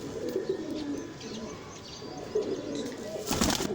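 A Prince Kamgar pigeon gives low, throaty coos at close range, with a brief burst of handling noise near the end.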